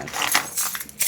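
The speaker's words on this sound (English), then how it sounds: "Keys." Metal keys on a keyring or lanyard jangle and clink in quick, close bursts while being tossed and juggled, a bright rattling that comes and goes across a short moment.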